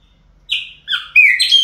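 A chopi blackbird (pássaro preto) sings alone in short, clear whistled phrases that rise and fall, starting after a brief quiet pause and growing fuller toward the end.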